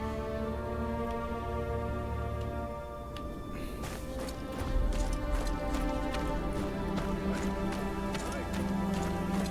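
Horse hooves clip-clop in a steady rhythmic trot in the video game Game of Thrones: KingsRoad, over sustained background music, fairly close and clear.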